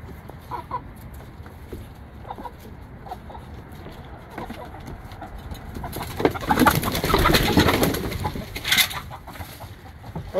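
Chickens and pigeons cluck and coo around a fake owl bird deterrent, with scattered calls that grow to a louder burst of clucking and fluttering midway, close and outdoors.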